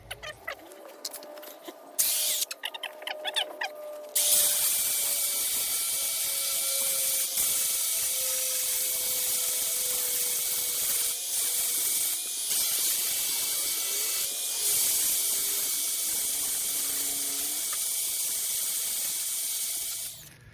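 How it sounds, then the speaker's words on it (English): Angle grinder runs steadily during maintenance on a FEMAC T9 FS forestry mulcher, a loud continuous high-pitched whine with grinding hiss. Brief clicks and handling noises come first, then the tone holds for about sixteen seconds. "mentioning the grinder was quieter and everything, but it's still noisy"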